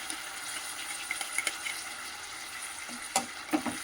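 Cashews, almonds and masala spices frying in a pan for a vegetable biryani, a soft steady sizzle with a few light clinks and stirring scrapes, close and quiet with no talking.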